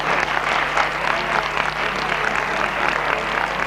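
Sustained audience applause at an international regueifa improvised-verse contest in Galicia during the final farewell round, a dense, even roar of clapping from a live crowd that continues throughout without pause.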